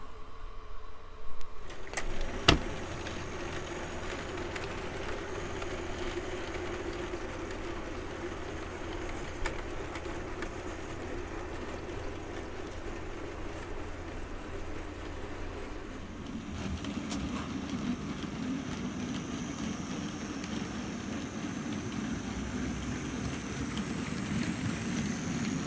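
A model railway Bagnall shunter locomotive pulls a rake of wagons around a layout, giving a steady low mechanical rumble and whirr that carries on throughout, growing slightly fuller in the latter part.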